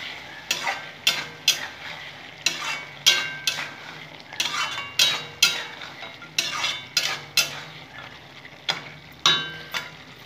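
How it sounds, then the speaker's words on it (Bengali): A utensil stirs ghonto with bori and green chilli in a pan, making repeated scraping clatters in an uneven rhythm over a faint sizzle; close and fairly loud, with no speech. "বড়ি দিয়ে আবার নেড়ে নেব"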